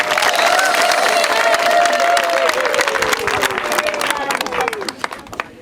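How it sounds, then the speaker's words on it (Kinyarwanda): A crowd at a community gathering in Rubavu, Rwanda, bursts into loud, steady applause with scattered cheers. The clapping stays dense and sustained, then thins toward the end. "wikomere amashyi kubera umutekano mufite"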